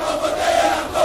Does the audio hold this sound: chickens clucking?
no